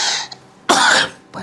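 Two sharp, close coughs from a woman, the first one broken and ragged and the second one a louder single hack, with a short gap between them and the start of another cough at the end.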